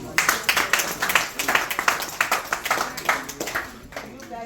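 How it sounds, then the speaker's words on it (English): Audience at a general assembly meeting clapping hands together in a lively rhythmic burst, close and fairly loud, tapering off at the end, with some speech mixed in. "let's give them a hand clap"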